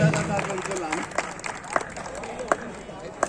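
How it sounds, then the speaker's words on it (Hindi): At a Holi gathering in a community hall, an audience greets guests with scattered clapping, a few sharp claps standing out over a murmur of voices. "थोड़ा जोरदार तालियों से अभिवादन करें"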